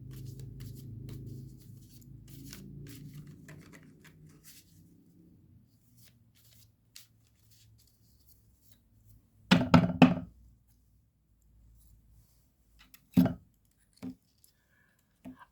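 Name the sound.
tarot cards being shuffled and cut into stacks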